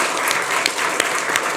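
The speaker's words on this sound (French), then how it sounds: "On peut l'applaudir encore une fois." Short burst of studio audience applause on a French television debate set, dense and close with a few sharper claps poking through the steady clatter.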